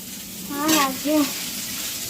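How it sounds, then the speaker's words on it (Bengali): Yardlong beans and potatoes fry in a pan with a steady, close sizzle, while a voice speaks briefly over the cooking. "এটা হলো বরবটি দিয়ে আলু দিয়ে ভাজা"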